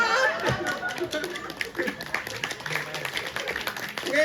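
An audience claps hands at a live Balinese comedy show. The clapping is a steady patter of taps that runs throughout, mixed with people talking over it.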